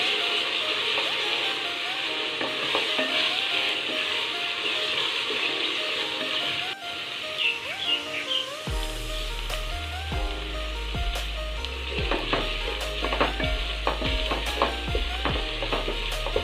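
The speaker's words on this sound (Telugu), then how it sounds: "అల్లం వెల్లుల్లి పేస్ట్ వేగిందండి." Ginger garlic paste frying in oil, a steady close sizzle with stirring and scraping clatters as the paste browns, no talk over it.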